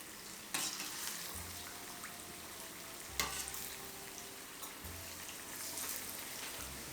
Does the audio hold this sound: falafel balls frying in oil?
yes